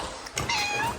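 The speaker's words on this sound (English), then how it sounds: "That's a cat." On a building site where an extension is being plastered, a cat meows close by, a drawn-out rising cry that bends in pitch, over steady background noise.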